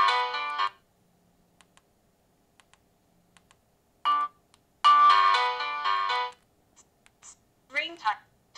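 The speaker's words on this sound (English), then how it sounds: "SIM 1 call alert ring and vibrate." An HMD 105 4G mobile phone plays short bursts of a bright, tonal ringtone separated by quiet gaps with faint key clicks, close and clear.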